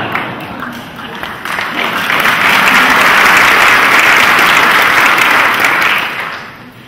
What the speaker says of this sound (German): Sie haben geklatscht und den zweiten Satz noch gar nicht gehört.